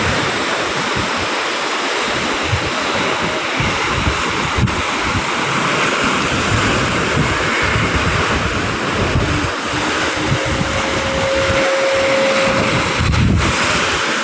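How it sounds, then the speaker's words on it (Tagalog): Strong sea waves on Manila Bay at Navotas, stirred by a typhoon and the southwest monsoon, roar continuously, a dense, loud rush of surf mixed with gusting wind buffeting the microphone. "lumakas ang alon"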